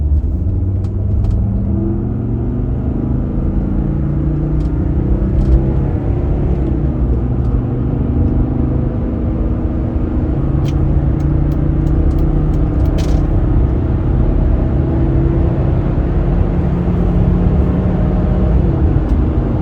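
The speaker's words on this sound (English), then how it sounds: "you'll be able to hear the 5-cylinder engine again." A 1995 Mercedes-Benz E250 W124 with a five-cylinder diesel engine cruising on a highway, giving a steady, loud, low drone with constant road rumble throughout and no talking.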